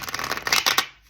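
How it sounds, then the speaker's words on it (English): A deck of playing cards riffles in a quick burst of crisp, rapid flutters, close and fairly loud, ending in a soft snap before falling silent. "as I shuffle these cards"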